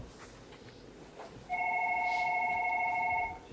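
A telephone rings indoors in a French domestic scene, a steady two-tone electronic trill starting after a quiet pause and sustaining for nearly two seconds before cutting off, fairly close and clear.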